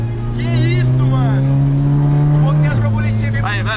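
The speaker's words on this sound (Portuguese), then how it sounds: "Acelera, acelera, pode acelerar aqui." An Audi TT accelerates hard on a coned course. The engine note climbs steadily, then drops sharply at a gear change before pulling again, with voices calling out over it.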